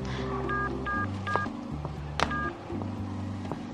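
A rapid series of mobile phone keypad tones, one beep per button press in quick rhythm, close and clear over a low hum.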